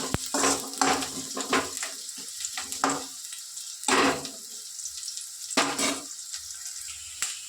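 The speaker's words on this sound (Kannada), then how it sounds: "ಈರುಳ್ಳಿ ಫ್ರೈ ಆಗ್ತಾಯಿದೆ" Onions frying in a pan until browning, a bright steady sizzle punctuated by bursts of stirring and spatula scrapes against the pan, close and clear with no talk.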